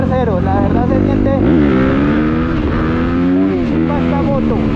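Powerful Honda CRF 250 dirt bike engine running loud and close, climbing in pitch as it accelerates and shifts through the gears.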